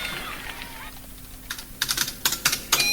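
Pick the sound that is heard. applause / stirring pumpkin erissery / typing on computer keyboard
typing on computer keyboard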